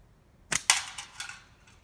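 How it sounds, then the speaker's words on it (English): A flat band slingshot shoots at a can: two sharp, close cracks as the shots strike, followed by lighter rattling clinks as it settles, near and fairly loud against quiet. "Shoot the can first."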